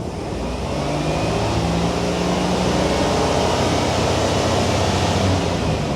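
GMC Safari van engine idling with the air conditioning fan blowing hard, a loud, steady broadband whoosh over a low engine hum, close and unbroken.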